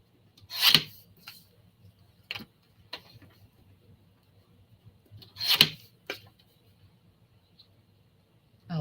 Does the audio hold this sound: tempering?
no